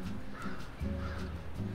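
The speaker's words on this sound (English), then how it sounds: "There's 4 crows sitting up in the Norway maple." Crows perched in a Norway maple give several short, hoarse caws at a moderate distance, faint against quiet outdoor background.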